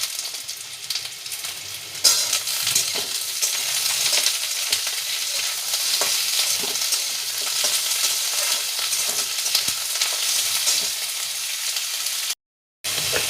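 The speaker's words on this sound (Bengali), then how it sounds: "আলুগুলো একটু নাড়াচাড়া করে দিলাম। এবার এতে বেগুনগুলো দিয়ে দিলাম।" Eggplant pieces drop into a pan of frying potatoes, and the hot oil hisses in a loud, continuous sizzle with some stirring, close up and with no voices.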